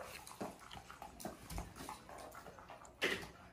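A puppy gives soft, faint whimpers and yips in short bursts, with one louder yelp near the end, over some splashing water.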